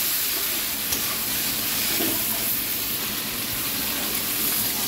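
Mashed potato mixed with water is poured into a sizzling pan, making a steady, loud, close hiss and steam without pause or speech.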